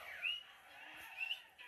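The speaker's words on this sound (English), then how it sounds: "He's my bird. My beautiful, beautiful bird." A pet bird gives two short, bright chirps about a second apart, close but fairly soft against a quiet room.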